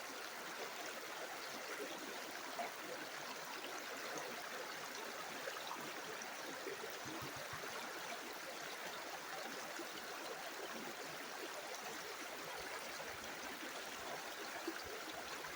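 Steady flowing creek water at a gold prospecting spot, a continuous rushing and trickling wash that stays even and close throughout with no pauses.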